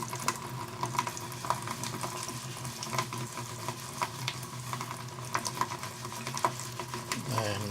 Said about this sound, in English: Any kind of tools you might use, wash them off thoroughly with soapy water, bleach.